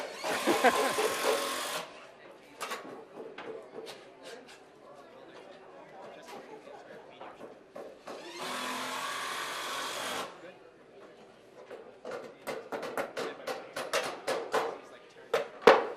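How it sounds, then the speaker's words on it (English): Black & Decker impact wrenches driving screws during a stair stringer installation at a builders' challenge, two long buzzing bursts with rapid ratcheting clatter amid hammering and crowd chatter and talking nearby. "And we can all thank Black & Decker for the impact wrenches."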